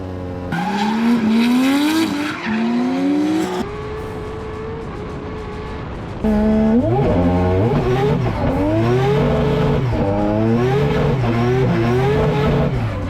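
Race car drifting on the Mantorp track, loud engine revving with rising and falling pitch sweeps, gear changes and tire squeal, the engine close and dominant throughout.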